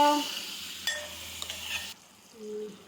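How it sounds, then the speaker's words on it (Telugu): Chopped tomatoes tipped into a frying pan for a Telugu tomato curry, sizzling broadly for about two seconds with a stirring scrape, then the hiss cuts off and a faint clink follows. "ఇప్పుడు మనం ముందుగానే కట్ చేసి పెట్టుకున్న టమాటాలు కూడా ఇందులో వేసేసుకుందాం"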